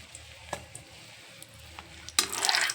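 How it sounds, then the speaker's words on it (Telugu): Eggs dropped into about three spoons of hot oil in a pan, with faint clinks early on, then a loud burst of sizzling and crackling that swells over the last half-second and continues. "ముందుగా 3 స్పూన్లు ఆయిల్ వేసుకొని గుడ్లు పెట్టుకుందాం"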